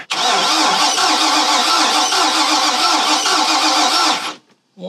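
A boat's multi-cylinder engine cranks over on the starter during a compression test with an old gauge, a loud, close, rhythmic churning that runs for about four seconds and then cuts off abruptly into near silence.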